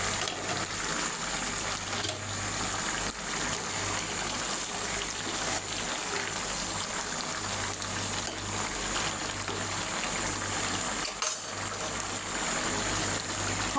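Beef tripe boils in a covered pot, giving a steady, dense bubbling and hissing wash that stays nearly constant throughout, with a low hum underneath and no voices.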